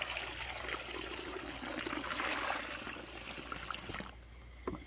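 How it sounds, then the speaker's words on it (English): Water pours steadily into a gold pan outdoors, a continuous close trickle and splash that runs for about four seconds before cutting off, leaving quieter background. "going to pour water in."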